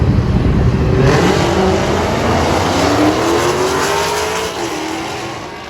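A loud drag racing car engine roars and accelerates hard down an eighth-mile strip, its pitch climbing steadily, then eases off slightly near the end.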